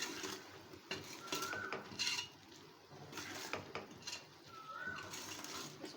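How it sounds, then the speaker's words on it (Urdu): Spoon scraping and clinking against a pan as spices are stirred into mutton mince, steady moderate kitchen clatter with a few sharper metallic taps and no talking. "اب اس کے اندر یہ سارے مسالہ جات جو ہیں وہ ڈال دیں گے اور اس کو مکس کر لیں گے۔"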